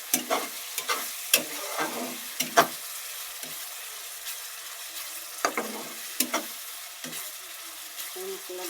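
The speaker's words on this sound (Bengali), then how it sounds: "মশলা সব দিয়ে এখানে কষিয়ে নিচ্ছি" Spices for a chicken and potato curry sizzle steadily in a pan while a spoon scrapes and stirs in irregular clattering strokes, close and moderately loud, with no talking.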